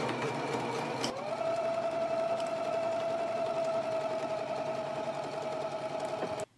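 A sewing machine runs steadily, stitching a garment's shoulder seam at a 5/8-inch allowance with backstitching. A short burst of mechanical clatter is followed by a continuous whirring hum that stops abruptly at the end.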